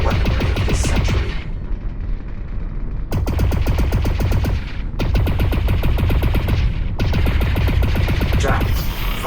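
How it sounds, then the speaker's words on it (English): Ionized bolt weapon in the Lone Echo 2 video game fires in long, loud, rapid bursts of rattling shots, broken by brief gaps between volleys. "fire continuously at this last target"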